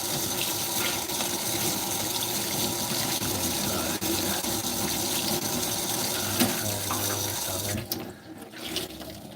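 Tap water runs steadily into a kitchen sink full of dishes left to soak, a close, continuous rushing splash that cuts off abruptly near the end, leaving a few faint drips and clinks.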